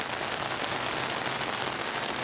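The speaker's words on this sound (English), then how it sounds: "the rain's actually slowed down for the first time in hours." Steady monsoon downpour in Pak Pun, Nakhon Si Thammarat, a dense continuous hiss of rain pattering on surfaces, loud and even throughout with no voices.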